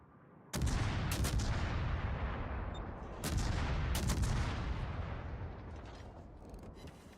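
Ship guns fire in a naval video game: two heavy salvos of booming gunfire, each a sharp onset followed by rumbling reverberation that slowly fades, loud and close with no speech.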